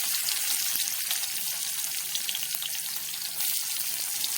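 Chopped onion and green chillies frying in a pan, a steady, soft, close sizzle with fine crackling throughout and no talking.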